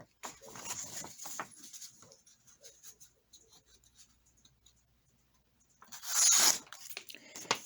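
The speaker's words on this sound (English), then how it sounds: "Now next, the cut test." A CJRB Feldspar folding knife cuts through material in a cut test, producing scratchy slicing and tearing strokes, with a few soft cuts early and a louder, longer rasping slice near the end, close up.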